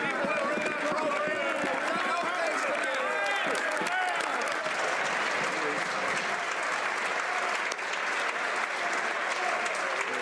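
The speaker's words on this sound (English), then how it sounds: "Clearly the Liberals will clap at anything" Members in the Canadian House of Commons break into sustained applause, a dense, even wash of many hands clapping that holds steady throughout with no pause.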